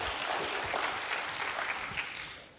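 A church congregation applauds for God, a dense, loud wash of clapping that holds steady and then starts to fade at the end.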